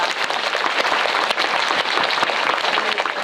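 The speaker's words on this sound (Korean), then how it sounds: "큰 박수 부탁드립니다." Sustained audience applause fills a Korean film talk event for the movie Parasite, a dense, steady wash of clapping from a large crowd with no talking over it.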